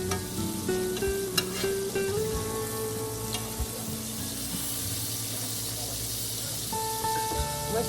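Food frying in a pan after being flipped, a steady close sizzle and crackle running throughout, with a few faint clinks of a utensil and a quiet voice underneath.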